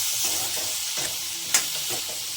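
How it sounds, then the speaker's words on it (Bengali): Potatoes and taro seasoned with turmeric and salt stir-fry in a pan, giving a steady close sizzle of hot oil with soft scraping as a spatula moves the pieces, and one sharper clack midway. "একটু নাড়াচাড়া করে দেবো, মানে একটু হালকা ভাজা ভাজা করে নেব"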